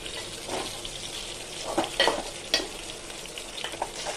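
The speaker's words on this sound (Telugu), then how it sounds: "ఇప్పుడు ఇంకో సైడ్ తిరగబెట్టాను. అలా అన్ని వైపులా వేపుకోవాలి." Fish fillets frying in oil in a pan, a soft continuous sizzle with a few louder crackles and spatters as pieces are turned, close but fairly quiet, no talking.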